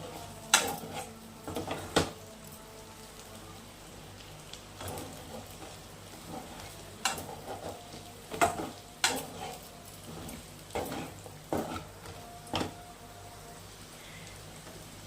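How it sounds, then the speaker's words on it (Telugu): Pepper chicken roasting in a pan, with a soft steady sizzle under repeated sharp clinks and scrapes of a spoon stirring against the metal, close up and with no talking. "బాగా రోస్ట్ చేసుకోవాలి."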